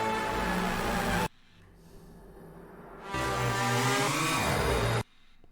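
Layered octave synthesizers with heavy pitch-wheel bends, hard panned left and right in a cinematic hybrid music track, loud dense swells cutting off abruptly between sections, no talking.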